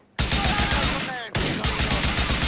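Loud, rapid bursts of gunfire in Grand Theft Auto IV, close and sustained, briefly cut off then resuming in a fast repeating rhythm.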